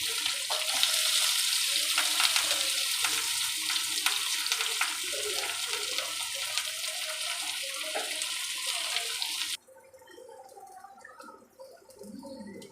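Mustard seeds, chana dal, onion, curry leaves and green chillies fry in hot oil with a dense, steady hiss and crackle that suddenly drops to a softer sizzle near the end.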